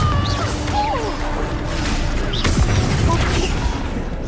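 The Confringo fire spell in the Hogwarts Legacy game goes off as a loud crashing blast over dense battle noise, with whooshing magic and debris, and a steady rumble throughout.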